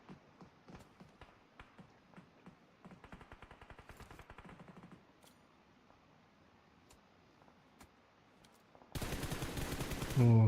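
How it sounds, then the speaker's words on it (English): Gunfire in the mobile battle royale PUBG Mobile, rapid bursts of distant automatic rifle fire that rattle on and off at low level, then a much louder, dense burst of nearby firing near the end. "But bullets continue to fly out."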